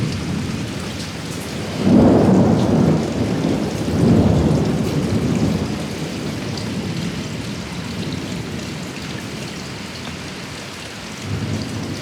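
Heavy rain pours steadily while deep rolls of thunder rumble through twice early on, loud and close, then the downpour continues as a dense, even hiss.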